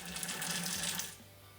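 Homebrewed beer runs from a fermenter in a steady hissing, splashing trickle, close and fairly quiet, easing off toward the end as the flow settles.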